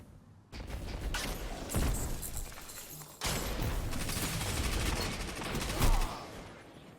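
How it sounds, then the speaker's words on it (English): Grenade launcher fire in a shooter game, a dense, noisy barrage of launches and blasts in two sustained waves with a heavier thump near the end, loud and close. "Oh, grenade launchers, man. They're also super annoying. Like, sound-wise."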